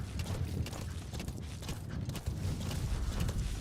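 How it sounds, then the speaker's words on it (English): Horse hooves clip-clop at a steady walking pace in the Metal Gear video game, fairly faint and continuous with no talking over them. "Stupid fucking horse."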